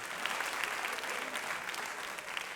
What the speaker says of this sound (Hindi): तो मोदी जी के लिए तालियां।